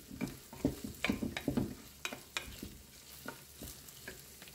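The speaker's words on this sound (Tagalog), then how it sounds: "pinride ko nga ng konti yung ating bigas, kasama ng ating vegetable mix" Italian rice and mixed vegetables sizzle and crackle in a hot pan for seafood paella, with a spoon scraping and stirring in uneven bursts, close and fairly loud, no voices.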